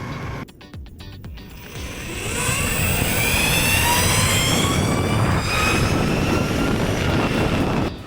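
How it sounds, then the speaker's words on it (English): A Linnpower Zephyr electric skateboard motor accelerating, a rising whine that climbs in pitch over steady rolling noise and holds loud and close. "The engine sound under acceleration is really nice."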